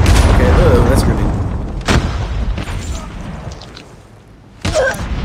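A grenade goes off in a video game with a loud, heavy boom that rumbles and slowly fades, followed by another sharp blast near the end.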